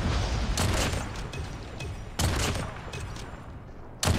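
Kilo assault rifle firing in Call of Duty Mobile, two or three loud sharp bursts of rapid shots rising out of constant busy battlefield noise.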